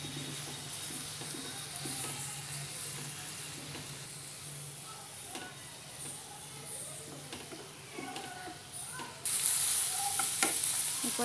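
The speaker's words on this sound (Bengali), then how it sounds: "সব কিছু ভালো করে মিক্স করে নিচ্ছি" Soy, tomato and chili sauces being stirred into pasta in a pan for a vegetable penne, with a steady soft sizzle and occasional spoon scrapes throughout, growing louder and brighter toward the end.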